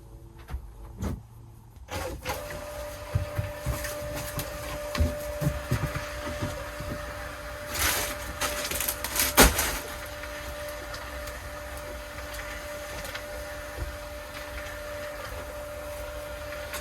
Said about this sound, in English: I'm just printing now the things that are going